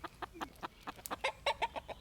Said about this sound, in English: And that's the chickens.